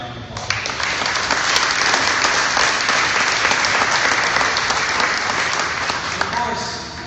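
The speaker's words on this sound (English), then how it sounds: "So please give these guys a round of applause." A crowd at a Mustang car giveaway event claps loudly and continuously for several seconds, dense applause close up with faint voices mixed in.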